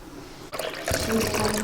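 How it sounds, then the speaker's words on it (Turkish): Milk poured into a pan while cooking a Mozambican breakfast, a steady liquid splashing that starts abruptly after a quiet half second and continues close and fairly loud to the end. "süt ekliyorum arkadaşlar"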